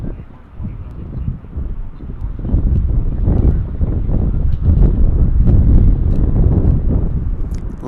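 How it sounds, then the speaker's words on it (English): A gust of wind buffets an outdoor microphone at DFW airport, a loud, rumbling low roar that swells after the first second and stays heavy, rough and steady to the end. "Little gust of wind behind me"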